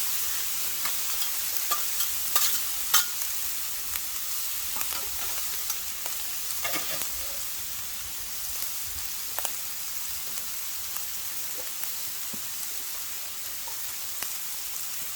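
Frozen chicken cooking on a flat griddle, a steady dense sizzle and crackle holding evenly throughout with scattered small pops and no talking.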